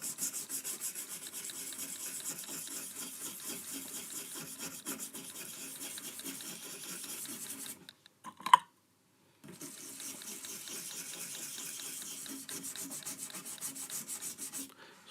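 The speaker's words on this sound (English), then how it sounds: "Scrubbing, scrubbing, scrubbing." Stiff brush scrubbing flux residue off a Fender Hot Rod or Deville guitar amp circuit board, a steady close rasping rub that runs continuously, breaks off briefly with a single tap, then resumes alone.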